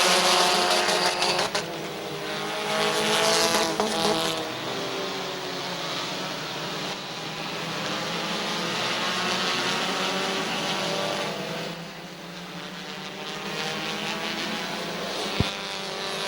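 Race cars roar around the oval at Midvale Speedway in a steady loud engine drone, rising and falling as the cars pass. A faint announcer voice runs under it.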